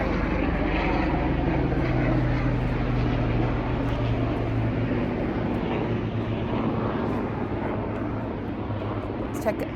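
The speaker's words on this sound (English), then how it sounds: "And now there we go, another helicopter moving through." A helicopter passes overhead with a low, steady rotor-engine rumble, loud and continuous throughout.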